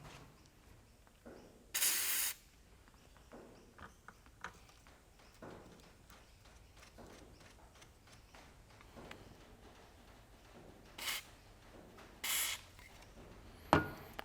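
Never seize sprayed onto boat motor bolts: a few short, sharp hissing spray bursts stand out against quiet background, with faint clinks and handling of metal parts in between, no speech.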